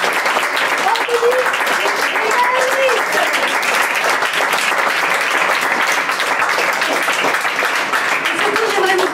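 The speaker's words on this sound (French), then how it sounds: "je vous demande d'applaudir encore une fois" Theatre audience in Aix-en-Provence applauding after a student presentation, loud sustained clapping filling the room throughout, with a voice speaking over it.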